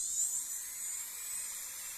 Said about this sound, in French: je vais utiliser ma ponceuse avec un embout qui est superbe pour les déposes